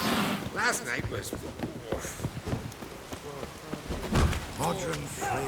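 Rain falls steadily in the background of The Witcher 3: Wild Hunt, with scattered drops, as voices talk over it.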